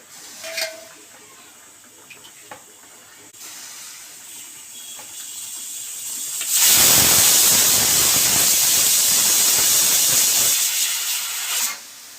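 A pressure cooker whistle on a stove lets out a loud, sustained hiss of escaping steam that lasts about five seconds and then cuts off, following quieter kitchen sounds.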